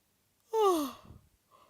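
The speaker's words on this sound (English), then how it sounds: "A big yawn when you said that." A person gives one big yawn, a drawn-out voiced sound that falls in pitch and fades into a breathy exhale, alone against near silence.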